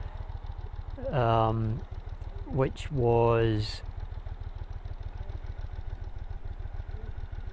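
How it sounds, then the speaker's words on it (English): A very loud motorbike idles close by, a steady low throbbing rumble that runs the whole time under someone talking. "somebody just pulled in a very loud motorbike"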